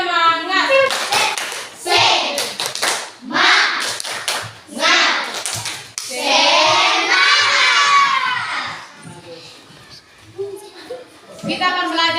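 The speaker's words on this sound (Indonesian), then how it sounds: "Selanjutnya kita akan melakukan tepuk semangat." Schoolchildren in a classroom lesson perform the tepuk semangat clapping chant, with loud rhythmic hand claps and shouted chanting voices that rise and fall in bursts, close up and filling the room.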